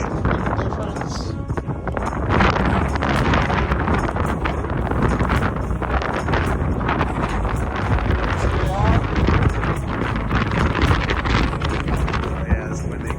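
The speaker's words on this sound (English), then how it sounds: "you can tell by the wind, it is extremely windy" Strong gusting wind buffets the microphone at a hot desert overlook along a canyon trail, a continuous loud roaring rush with occasional faint voices beneath it.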